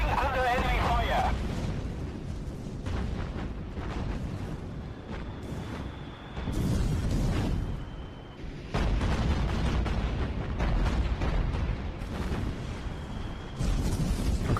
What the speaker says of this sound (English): Ooh, that was a big hit. Look at those explosions.